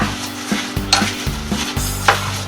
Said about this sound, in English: I'm going to take my spoon here and stir that up